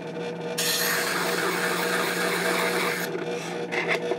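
A 90-degree engraving graver is rubbed steadily on a 600 grit sharpening stone, giving a continuous close, dry scraping hiss for a few seconds that then stops.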